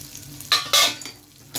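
Pieces of halwa fish (pomfret) sizzle in oil in a covered pan, with two short loud bursts of spattering frying over a quiet background and a light clink near the end.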